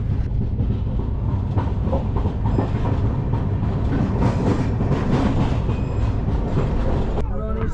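An intercity train from Tiruppur to Chennai rolls along the rails near Arakkonam, pulling away after a signal stop, with a loud, continuous rumble and steady clickety-clack of wheels throughout.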